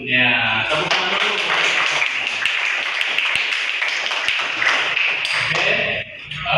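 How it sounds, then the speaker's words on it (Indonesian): A class claps hands together at the end of a school lesson, a dense burst of many rapid claps lasting about six seconds before tapering off, close and loud. "Tepuk tangan dulu."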